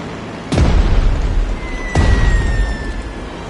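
Two heavy bombing explosions boom out about a second and a half apart, each a loud deep blast with a rumbling tail.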